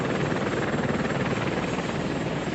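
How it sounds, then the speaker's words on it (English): Military Apache attack helicopters loaded with Hellfire missiles lift off on a moonless night, giving a steady, loud, close rotor thrum with a rapid chopping pulse and no voices. "8 Apache helicopters laden with Hellfire missiles took off towards Iraq."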